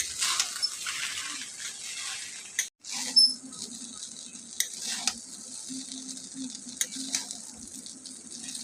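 Cooked rice stir-fried in a pan with capsicum, carrot and beetroot, giving a soft, steady sizzle with repeated scraping and stirring clicks from a spatula, heard up close.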